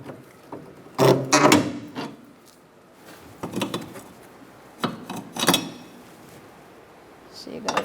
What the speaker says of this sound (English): Using a pry bar.